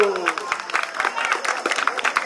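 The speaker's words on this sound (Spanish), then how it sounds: "A ver, fuerte el aplauso." A crowd at a birthday party claps steadily for a couple of seconds, dense and close, with voices mixed in.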